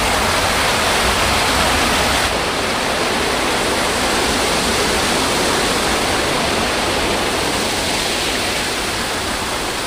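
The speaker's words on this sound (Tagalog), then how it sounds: "Ito yung tubig. Waterfall." Steady, loud roar of a waterfall at a natural hot spring campsite in Calauan, Laguna, Philippines, a dense broadband rush that holds constant from start to finish with no voices.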